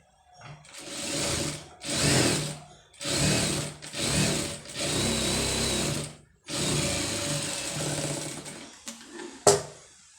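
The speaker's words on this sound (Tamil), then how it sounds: "இப்போ தையல் போட்டு திருப்பிடுவோம்" An electric sewing machine stitches an embroidered sleeve in several whirring bursts of a second or two each, separated by short pauses, close and clear, ending with a few small clicks.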